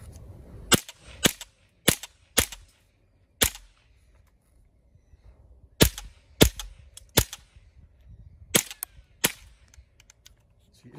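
A rifle is fired shot by shot until the magazine runs empty, with about a dozen sharp, loud reports spaced irregularly and a pause in the middle, quiet between shots and no voices.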